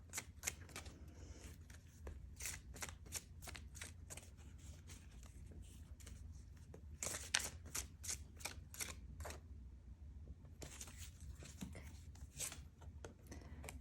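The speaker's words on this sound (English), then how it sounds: "You want me to shuffle before I pull the next one?" Rapid papery riffling and soft slaps of a tarot deck being shuffled repeatedly, in close, sharp bursts over a low steady background hum.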